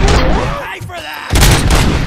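Loud gunfire bursts from the RoboCop: Rogue City game, with a heavy burst at the start, a brief lull, then another dense barrage, while a voice speaks over part of it.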